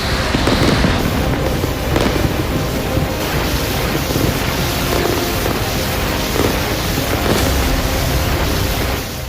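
Serial explosions at a Russian rocket depot after a Ukrainian strike, heard as a loud, continuous roar of blasts and rumbling with sharp bursts throughout, no voices.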